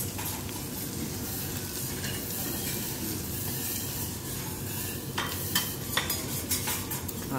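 Wagyu beef sizzles on a teppanyaki grill in Yangon, Myanmar, a steady frying hiss with occasional scraping and clinks of metal utensils growing sharper near the end.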